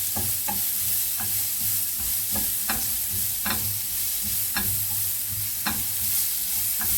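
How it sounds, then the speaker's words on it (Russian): Carrots fry in a pan with a steady broadband sizzle, while a spatula or spoon stirs them in regular clacks and scrapes about once a second, close and fairly loud, with no voices. "Теперь эту морковку мы обжариваем."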